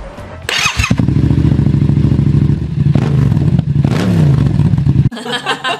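A Kawasaki Z125 on its stock exhaust fires up after a brief crank, then idles with a steady, close, loud thumping burble and blips its throttle, with a short clatter near the end.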